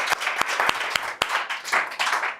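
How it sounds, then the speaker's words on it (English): Scattered clapping from a small meetup audience, a handful of sharp individual claps over a soft wash of applause that swells and fades across a couple of seconds. "If everybody could give a round of applause."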